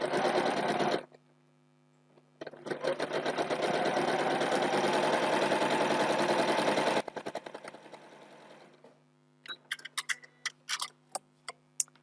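A sewing machine stitches quilt patches for a 4-patch block in two loud, steady runs separated by a pause, then slows into scattered mechanical ticks and clicks.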